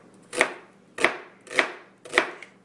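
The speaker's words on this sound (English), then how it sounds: "Cut it in half, once again, to get my stable working surface." Knife cutting through an onion on a board, four evenly spaced crisp chops about half a second apart, close and clear with no talking.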